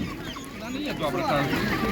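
A three-and-a-half-month-old duck at an animal market gives short honking calls, close by and mixed with nearby people talking.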